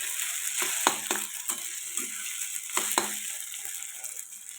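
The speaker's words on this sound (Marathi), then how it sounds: "आपण छान असा साबुदाणा परतून घेत आहोत." Tapioca pearls (sabudana) being sautéed in a pan give a steady, close sizzle, with a few sharp scrapes and clicks of a spatula stirring through it.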